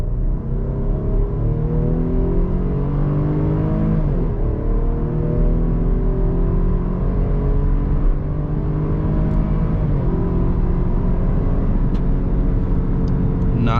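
A 2021 Jeep Grand Cherokee Laredo E with an 8-speed automatic accelerates at full throttle in sport mode, its engine note climbing steadily through each gear and dipping briefly at shifts, loud and continuous from inside the cabin.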